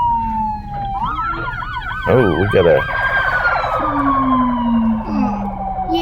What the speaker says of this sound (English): I saw the ambulance